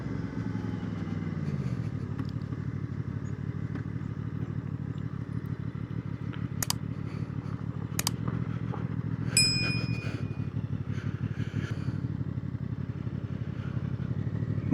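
A QJ Motor SRV 600 V4 custom motorcycle rides along and slows down, its engine a steady close rumble that drops in pitch early on, with a few sharp clicks and a brief bright ding partway through.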